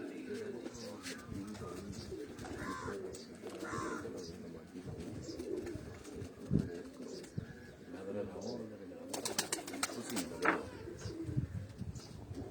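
Pigeons coo repeatedly in soft, throaty phrases, with other birds calling and a few sharp bursts of noise nearby.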